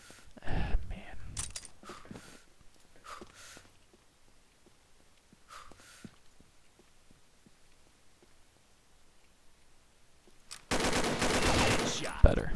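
Gunfire in the shooter game Combat Arms: a few scattered shots and short bursts early on, then a sustained loud burst of rapid automatic fire near the end, with quiet stretches between.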